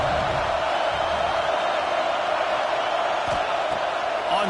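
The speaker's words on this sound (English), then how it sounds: "how nice is it to have the home crowd going absolutely bananas?" A home football crowd roars steadily and loudly at a Penn State versus Michigan State college game, a dense sustained wall of cheering from the stadium.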